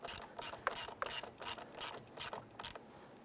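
Ratchet snugging down a battery terminal nut on a 1995-2001 Ford Explorer, a rapid series of close, crisp clicking strokes in a steady back-and-forth rhythm.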